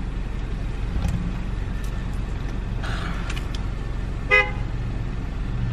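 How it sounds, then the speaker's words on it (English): A brief car horn toot sounds once near the end, over a constant low rumble of traffic and engine noise. "Who honked?"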